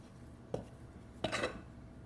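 Chopped boiled eggs being mixed into a bowl at home, two quiet clinks of a utensil against the bowl, the second followed by a brief scrape, in a quiet kitchen.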